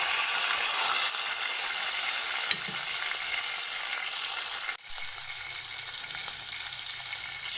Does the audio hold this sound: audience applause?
no